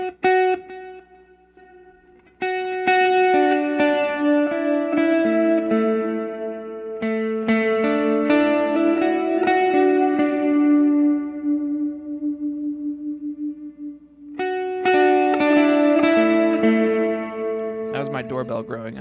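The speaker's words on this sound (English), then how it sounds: "I'm going to use this as a lead guitar delay sound" Clean electric guitar phrases through a Line 6 Helix ring out with repeating delayed echoes trailing each note, washed in reverb, ending in a brief burst of higher tones.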